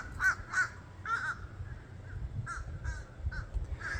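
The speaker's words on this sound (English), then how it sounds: "geez, birds." Crows cawing outdoors in a run of harsh, repeated calls, several overlapping, at moderate distance over low background rumble.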